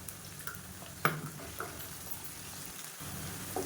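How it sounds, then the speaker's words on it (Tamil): Ginger garlic paste sizzles with oily crackles steadily in a pan, with a few sharp clinks of a utensil against metal; no talking. "இப்போ இஞ்சி பூண்டு பேஸ்ட் நல்லா வதங்கிடுச்சு"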